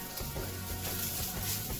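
Beijing beef sizzling and frying in a hot pan as it is stirred, a steady soft crackle close by with no talk.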